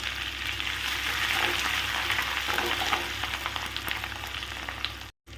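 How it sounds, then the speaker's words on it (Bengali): Ginger fries in oil over a low flame, giving a steady close sizzle with small crackles and occasional stirring scrapes, no voices, cutting off briefly near the end. "আদাটা আমার ভালো করে ভাজা হয়ে গেছে"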